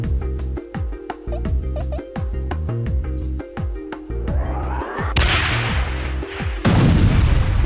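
A shot fired in the Worms Battle Islands video game: a sharp explosive burst and a broadband boom near the end, over busy game music and effects, loud and close.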